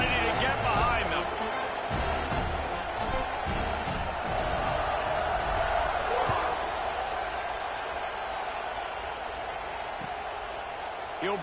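A stadium crowd roars steadily at kickoff in a college football video game against Georgia, a dense continuous wash of cheering noise throughout.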